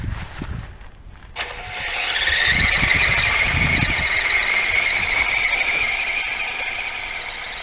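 Helifar 6x6 RC truck on low speed driving through sandy dirt in a yard, a steady high electric motor whine starting abruptly and holding for several seconds, with faint gritty crunching underneath.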